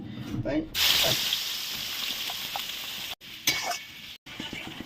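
Onions fry in a pan until golden brown for a desi country chicken curry, giving a steady close sizzle with stirring scrapes and a couple of abrupt cuts. A voice talks over it.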